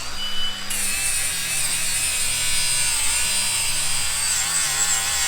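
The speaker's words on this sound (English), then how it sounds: "Clean it up with the flappy now. Nice clean steel, easy to work with," A flap disc on an angle grinder cleans steel on a car trailer build, with a sustained high whine that stays steady and close and no voices over it.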